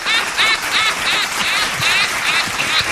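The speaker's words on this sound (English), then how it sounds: "of course, Frankie gets the applause" Loud applause fills a short burst, steady clapping blended with bright warbling cheers or whistles that rise and fall throughout.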